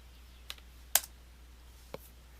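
A few isolated keystrokes on a computer keyboard while entering text in a browser: three sharp clicks spaced apart, the middle one loudest, close and quiet with no talking.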